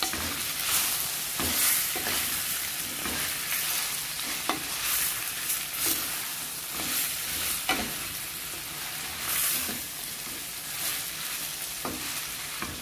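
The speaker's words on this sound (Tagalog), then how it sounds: "I'm going to turn around the ribs together with the ingredients" Baby back pork ribs turned and fried in a pan with other ingredients, a continuous sizzle broken by repeated scraping and clattering as the meat is moved about, steady and close with no voices.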